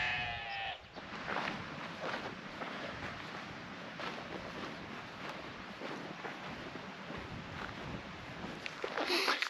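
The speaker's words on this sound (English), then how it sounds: "That sheep's definitely not happy, is it?" Sheep on a Welsh hillside valley along the Cambrian Way, with a brief bleat at the start and another at the end, outdoors over steady wind noise.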